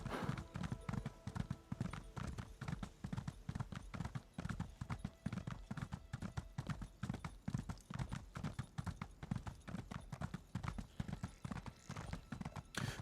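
A summoned horse mount in Elder Scrolls Online trotting along a path: steady, rapid clip-clop hoofbeats, close and continuous throughout, with no speech.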